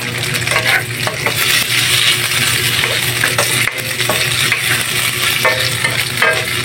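Meatloaf tossed into sautéed alugbati greens in a hot pan, with continuous oil sizzle and repeated scraping and clinking of a spatula stirring, close and loud, no talk.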